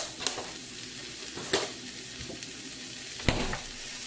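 Frozen spinach sizzling in a frying pan, a steady soft hiss of frying with three sharp clinks or stirring knocks spread through, fairly quiet and without talk.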